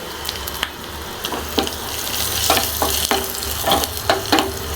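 Vadagam tempering fries in hot oil with asafoetida and dried red chillies, giving a steady close sizzle punctuated by a series of sharp scraping stirs and clinks of a ladle, with no talking.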